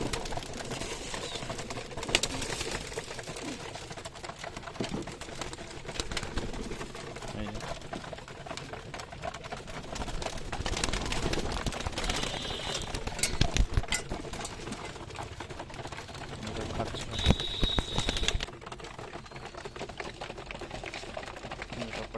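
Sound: Giribaz pigeons eating wheat grain

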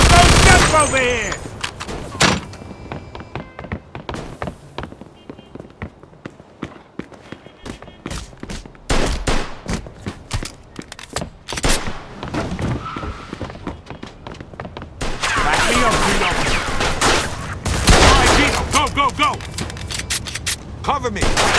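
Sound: gunfire in the video game Mafia II

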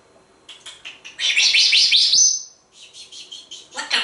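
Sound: bird chirping

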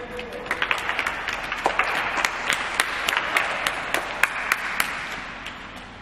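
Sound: applause

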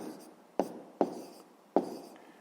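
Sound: writing fractions in a notebook

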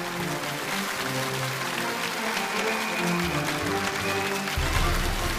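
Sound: studio audience applause welcoming guest

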